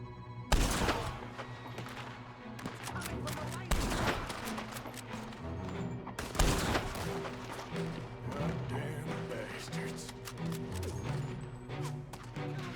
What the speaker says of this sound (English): So should I shoot him? I'm gonna shoot him.